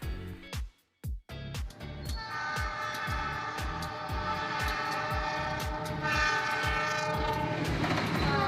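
Train passing at constant speed, loud and close. A sharp horn blast opens over rhythmic clickety-clack of wheels on rail joints, then a sustained rumble of cars rolling past without pause.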